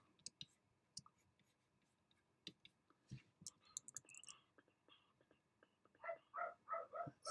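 A dog barks several times in quick succession, fairly close, after a stretch of scattered clicks and small household noises in a quiet room.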